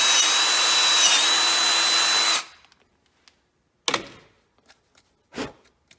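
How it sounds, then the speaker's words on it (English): A loud, steady power drill runs for a couple of seconds, drilling through a plastic pipe fitting and the pipe inside, then stops abruptly, followed by a few sharp clicks and handling knocks in near silence. "I'm just going to drill right on that mark. And I'm drilling through the fitting and the pipe inside."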